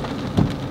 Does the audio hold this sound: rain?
yes